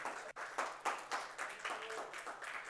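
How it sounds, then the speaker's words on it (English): Church congregation claps hands in praise during a sermon, fairly faint, rhythmic clapping in regular beats with a sharp accent near the start, heard at a distance. "Give God a hand clap of praise."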